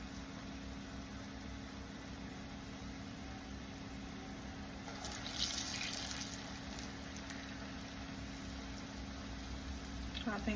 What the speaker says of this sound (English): Wet your hand.